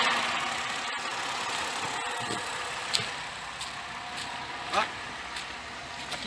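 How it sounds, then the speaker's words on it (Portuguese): A 2010 Ford Fusion V6 idles smoothly, giving a steady, even engine hum with a few soft clicks and knocks, while a voice is faintly present throughout. "Aqui vocês podem ver, ó, o carro tá funcionando, ó, bem leve"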